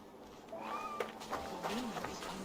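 A cat in Assassin's Creed Valhalla gives a couple of short rising meows close by, faint against quiet game ambience.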